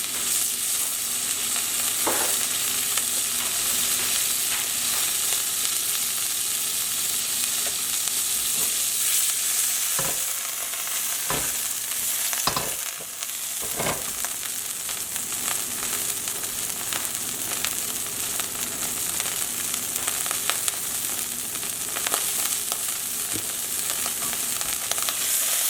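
Shallots and green beans sauté in a hot oiled pan, a steady close sizzle running throughout with occasional stirring scrapes and clatters, no voices.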